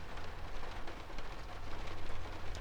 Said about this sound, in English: It looks like I think it's raining pretty hard.